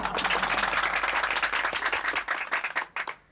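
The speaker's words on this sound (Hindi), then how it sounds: "तालियां।" Audience applause at a women's gathering in a residential building, a dense burst of clapping close by that thins into scattered claps before fading out.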